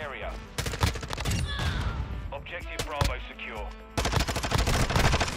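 Rapid automatic gunfire from a weapon in the video game Modern Warfare II, dense bursts of shots running almost continuously and loud throughout, with brief lulls between volleys.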